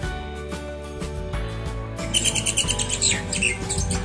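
Birds in a bird park aviary chirp and call repeatedly, with bright overlapping calls growing busier halfway through, set against a steady background hum and low-pitched sounds.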